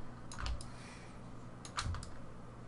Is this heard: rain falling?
no